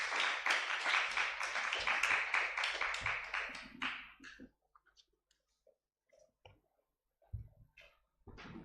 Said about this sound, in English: Can we have a round of applause for Agatha Christine?